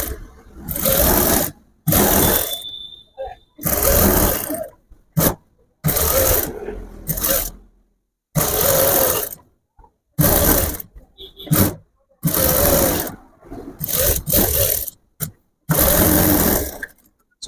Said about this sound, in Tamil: சுற்றி தையல் போட்டுக்கலாம்.